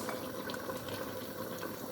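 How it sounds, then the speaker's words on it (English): Meat simmers in a soup pot, a steady close bubbling and gurgling of boiling liquid with no voices. "then I continue to boil the meat"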